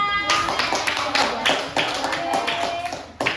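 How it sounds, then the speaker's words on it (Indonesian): Primary-school pupils in a classroom clap for a classmate, a burst of scattered, uneven hand claps close by, with a few louder slaps standing out and a voice briefly talking among them. "Tepuk tangan dong untuk Cika."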